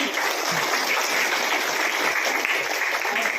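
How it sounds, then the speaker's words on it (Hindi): A crowd at a village panchayat development seminar claps loudly and continuously, a dense even wash of applause throughout with no pauses. "आप सभी के लिए भी जोरदार ताली से अभिनंदन चाहूँगा"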